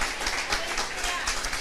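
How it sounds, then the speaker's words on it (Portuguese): Church congregation clapping for the Lord during a Portuguese-language worship service, a dense steady patter of many hands filling the room for a short stretch. "Você pode aplaudir ao Senhor por isso?"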